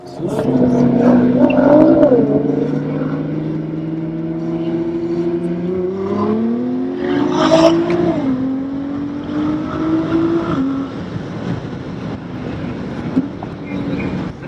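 A Bayside Blue Nissan GT-R pulls hard with a loud engine note, its pitch climbing through the gears with quick upshifts. The engine stays up close and fills the whole stretch, with no talk over it.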